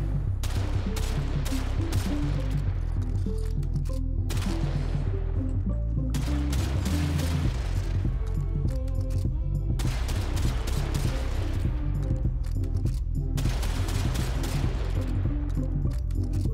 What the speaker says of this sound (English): we're going to be here like all day firing on this guy